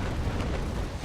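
Broadside fire from 6-pounder long cannons in a naval battle in Naval Action Legends, a dense, continuous rumbling boom of overlapping cannon blasts, loud and sustained with no talk.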